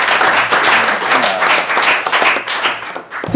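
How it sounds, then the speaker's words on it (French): A studio audience on a pétanque television show bursts into loud, close, sustained applause for a guest, with steady dense clapping for a few seconds. "On peut l'applaudir."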